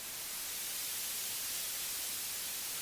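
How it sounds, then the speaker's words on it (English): Steady broadband noise with its highs lifted by a high shelving filter set at 2000 hertz, giving a bright, hissy static tone that holds constant and alone throughout. "I'll increase the gain of the high shelving filter"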